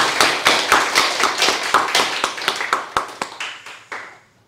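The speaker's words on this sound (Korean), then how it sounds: "여기까지 인도하신 우리 하나님께 감사의 박수를 한번" A church congregation at Sunday worship claps together in thanks, a run of loud, close, fairly even claps that grows sparser and fades out after about four seconds.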